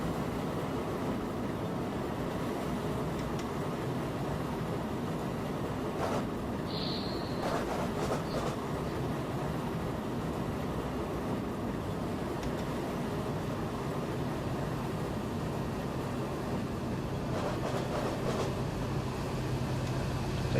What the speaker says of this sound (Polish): spalinówka, manewry z boku.